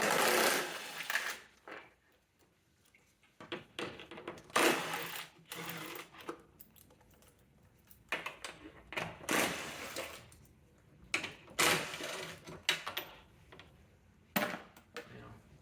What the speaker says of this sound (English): And we have 4 number 10 millimeter bolts to undo.